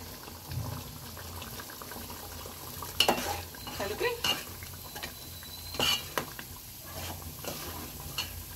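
Paneer cubes stirred into palak curry in a pan for a dhaba-style palak paneer, with scattered spoon scrapes and soft stirring bursts over a low simmering background, the strokes clustering around the middle of the clip.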